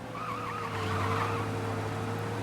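A car in Mafia: Definitive Edition skids to a stop, its tires giving a wavering squeal over a low engine hum, fairly loud and close, with no talk.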